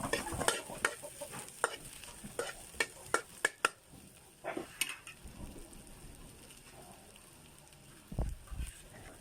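Chicken sizzles as it fries in a pan for Philippine miswa soup, with a steady crackle broken by sharp clicks of a utensil stirring and scraping in the first few seconds, close up and with no talking.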